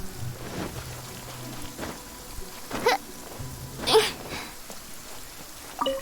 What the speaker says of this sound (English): It's raining, which is pretty rare. And the rain is absolutely realistic in this game.